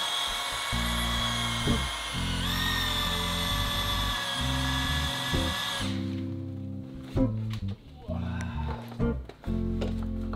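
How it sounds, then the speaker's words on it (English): A power drill whines loudly and steadily while drilling into lead for a wooden boat's keel, its pitch jumping up midway, then stops and gives way to scattered clunks and handling noises. "It's about time to drill some lead."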